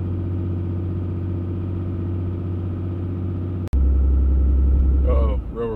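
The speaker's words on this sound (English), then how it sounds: "The truck is super loud." A tuned 6.7 Cummins diesel in a Ram 2500 rumbles steadily from inside the cab while driving, a deep droning engine note that swells louder partway through, with someone talking over it near the end.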